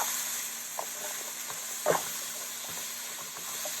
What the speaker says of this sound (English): We're going to cook these vegetables down